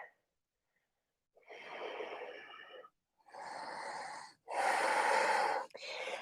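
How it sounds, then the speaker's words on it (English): Deep yoga breaths are drawn and released in three or four long, rushing bursts, close and fairly loud, separated by short silences. "3 more breaths."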